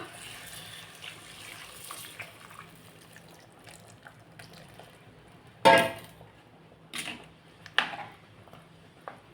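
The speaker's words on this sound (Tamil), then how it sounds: "புளி தண்ணி ஊற்றிக்கலாம்." Tamarind water trickles and splashes softly into a pot of dried fish curry, with a few louder sloshing bursts and faint kitchen clatter, no talking.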